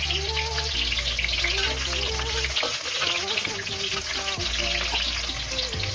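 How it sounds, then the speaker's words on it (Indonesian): Shallots, garlic and candlenuts frying together as a spice paste in a wok, a steady close sizzle with stirring scrapes throughout and low background tones underneath. "Dan sekarang kita goreng bumbunya."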